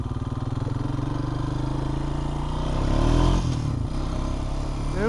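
A Honda Rancher ATV engine runs steadily close by, with a rhythmic motor drone that swells briefly around the middle, then settles back to an even idle-like chug.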